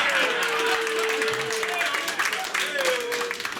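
Applause and crowd noise from a comedy club audience during a crowd-work set, a steady wash of clapping that holds for several seconds, with voices and talk mixed in over it.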